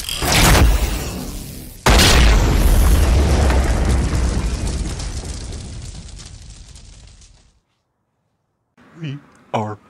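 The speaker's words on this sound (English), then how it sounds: "I could always hit it with a plasma blaster" A plasma blaster explosion sound effect: a heavy, booming blast hits, then a second deep burst rumbles and fades over several seconds, followed by silence and a brief faint sound.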